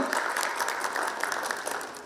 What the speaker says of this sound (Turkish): alkışlarınızı rica ediyorum